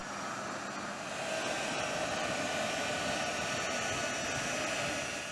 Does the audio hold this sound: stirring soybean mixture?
no